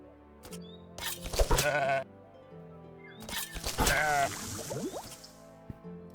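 A sheep in the video game Across the Obelisk lets out two wavering bleats a few seconds apart, each lasting about a second and fairly close, over a quiet game backdrop.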